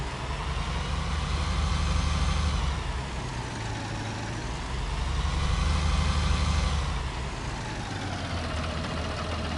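A Fendt tractor engine idles steadily in Farming Simulator 19, a continuous low rumble with slow swells in loudness, close and alone without any voices.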